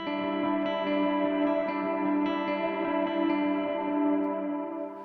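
Electric guitar with an overdriven gain stage, played in the middle pickup position so both pickups are on, carries a sustained harmony lead line with chorus and echo effects, steady and loud, with no voices.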